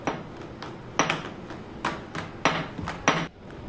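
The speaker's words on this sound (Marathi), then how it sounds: "त्याला मी चांगलं वाटून घेणार आहे वांग्याला" Well-cooked eggplant being mashed for Maharashtrian bharit, with dull, close thuds and scrapes repeating roughly every half second over a quiet background.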